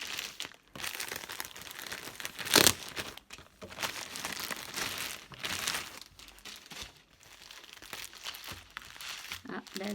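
Plastic unboxing packaging crinkles and rustles in uneven bursts close by, with one sharp loud crackle near the start.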